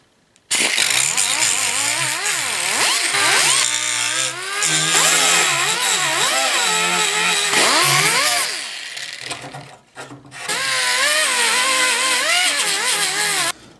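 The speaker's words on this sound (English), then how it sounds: "I've just ground these things up a little bit, just to smooth the tops of them off" A power tool whines loudly while grinding plastic tabs smooth on an Isuzu Trooper headlight grille, its pitch rising and falling in long bursts, with brief pauses between passes.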